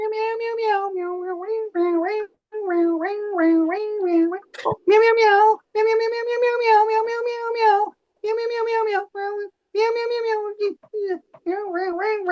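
A person imitates a cat, voicing a long string of drawn-out, whiny meows one after another with brief pauses between them, close and loud.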